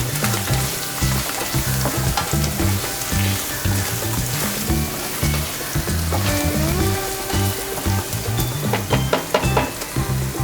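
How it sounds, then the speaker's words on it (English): Turmeric and Kashmiri chili powder frying and being stirred in a pan for paneer biryani, a steady loud sizzle with stirring, under continuous background music, no talk. "turmeric powder and some Kashmiri Lal Mirch powder, and give it a nice stir once again."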